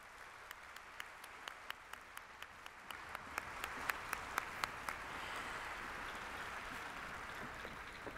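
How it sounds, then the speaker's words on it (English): Applause at an opening ceremony after a performance, starting with a few sharp individual claps and swelling into steady, fairly distant clapping from the audience. "Please give another big round of applause for the beautiful performance"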